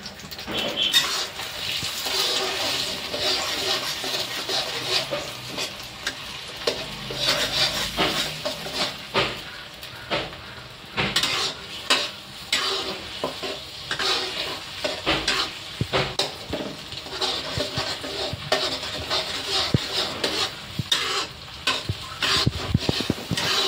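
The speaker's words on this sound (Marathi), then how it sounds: "पहिले आता आपल्याला टमाटर टाकून घ्यायचं. मीडियम गॅस ठेवायचा." Raw chopped tomatoes fry on medium gas in a pan for an Indian paneer masala, with a steady soft sizzle broken by repeated stirring and scraping of a spoon against the metal pan, close and continuous throughout.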